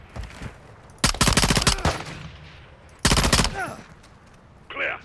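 P90 submachine gun fire in the Modern Warfare 2 campaign: two loud, rapid automatic bursts of about a second and half a second, with game ambience between them and a brief muffled voice at the end.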